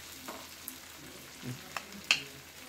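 Fish fries on a tawa over a medium flame, a soft steady sizzle broken by a few faint pops and crackles, close and quiet with no talking.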